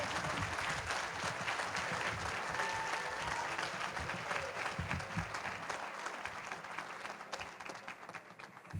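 An audience at an awards dinner for educators gives sustained, steady applause for the runners-up and winners, dense clapping that fills the room and tapers slightly toward the end.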